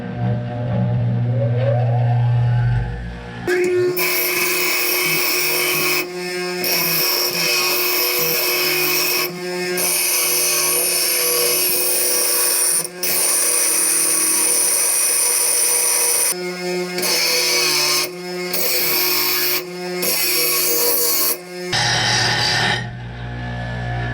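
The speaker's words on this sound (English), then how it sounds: "Now I'm going to go and square it up on the grinder." Angle grinder squaring up a freshly cut piece of steel for a Kubota BX weight bracket cart, a loud continuous whine that runs in long bursts with brief pauses and pitch dips as it bites into the metal.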